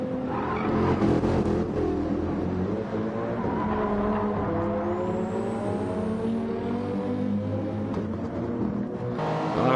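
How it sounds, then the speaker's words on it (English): Race car engine revving hard around the Nürburgring in a racing video game, a loud continuous high-pitched drone rising and falling through gear changes with no pauses. "revving it out."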